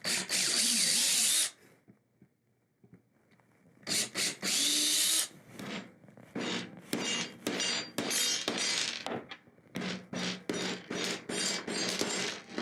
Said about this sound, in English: So I'm going to take a drill bit and open those up a little bit.